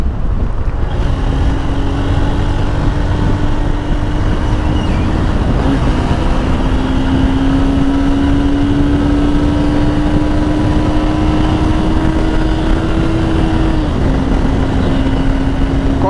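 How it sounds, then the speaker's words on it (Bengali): A Honda Hornet motorcycle engine hums steadily under throttle on the road, a sustained engine drone with a slowly rising tone, masked by heavy wind rush against the microphone. "দেখছেন, হর্নেটেও সেই লেভেলের টান ওঠে।"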